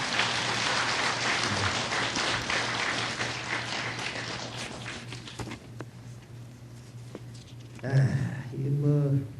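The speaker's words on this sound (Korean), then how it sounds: "박수 한번 치세요" A Buddhist temple congregation at a Saturday dharma service claps together in sustained, dense applause, which thins and fades into murmured voices and brief talk near the end.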